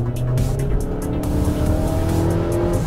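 A Mitsubishi Outlander accelerates hard toward 60 km/h for a slalom lane-change test, its engine droning loudly and steadily with tire and road noise and a rising tone.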